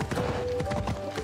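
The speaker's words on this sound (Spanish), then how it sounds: "Un paseíto ligero a caballo." Horse hooves clip-clop in a steady trotting rhythm as a rider travels on horseback in Assassin's Creed Odyssey, loud and close with game ambience underneath.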